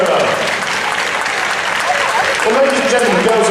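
An audience in the Crufts main arena gives a loud, dense round of applause after a Good Citizen Dog Scheme display, with a voice heard over the clapping.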